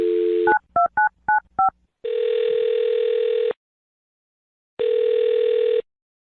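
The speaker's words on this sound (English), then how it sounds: "I'm going to dial his number." A telephone number is keyed in as a quick run of separate DTMF beeps, followed by two long, loud ringback tones with a pause between, crisp and close with no voices.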